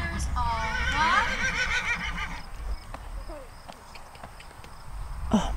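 Horses walk in a riding class: soft clip-clop of hooves and a loud whinny sound close by, while an instructor's voice and riders' chatter carry over the arena.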